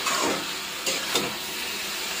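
Shredded cabbage frying in oil with a five-spice tempering of dried red chillies and bay leaves, a close, steady sizzling hiss with a few louder surges as it is stirred.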